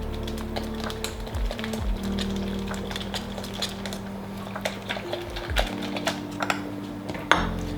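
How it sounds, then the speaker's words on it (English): Whisk clattering against a pan while cheese is worked into a cheese sauce off the heat, a busy rapid metallic scraping and ticking that keeps on steadily and close, with no talk. "Whisk it in."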